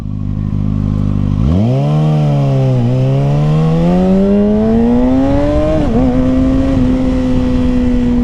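A 2021 Kawasaki Ninja ZX6R fitted with an M4 Street Slayer slip-on exhaust starts up close and loud, then revs with a rising, rasping engine note that dips briefly and climbs again before settling into a high, steady hum.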